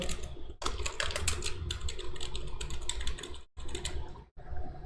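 Fast, steady typing on a computer keyboard while a résumé is made in MS Word. Keys clatter close up with a few short pauses in between.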